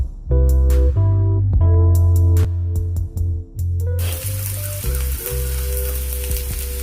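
Curry leaves drop into hot oil for a potato chutney and burst into a loud, crackling sizzle that sets in suddenly after a stretch of steady tonal music and keeps hissing.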